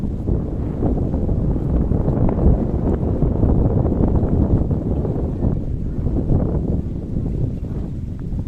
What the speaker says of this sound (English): You can hear the wind sound very clearly.